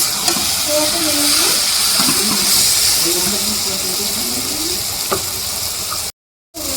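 Cauliflower with papaya frying in a pan as its liquid cooks down, giving a steady broadband sizzle throughout with a voice talking over it.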